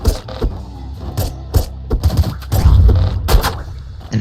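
Rapid bursts of gunfire from the bullet hell video game Nuclear Throne, with loud punchy shots in uneven clusters and a dense flurry midway; no talk.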